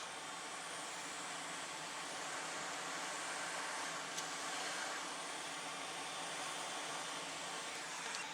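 A hot air rework tool blows steadily to warm an area of a Commodore 64 circuit board, a close, even broadband hiss that holds constant with no pauses and no talking.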